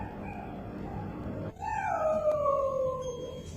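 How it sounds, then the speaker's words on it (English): A dog locked in a cage howls and cries, a long mournful wavering tone that falls in pitch, following a stretch of muffled background noise. "The image of how a dog locked in a cage cried day and night"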